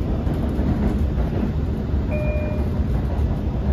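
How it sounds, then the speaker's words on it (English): A cut of freight cars rolls past on a Long Island Rail Road line, a steady loud rumble of wheels with a brief high squeal partway through. "Here's the cut of cars from the freight,"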